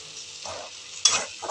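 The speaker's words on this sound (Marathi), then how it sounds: "जसजसे ते बोंबील फ्राय होतात ना मैत्रिणींनो, खूप सुंदर सुवास येतो त्याचा." Bombay duck (bombil) fish frying gently with a little tomato and water in a pan over a low flame, a steady soft sizzle broken by a few short scraping stirs, close and moderately loud, with no talking.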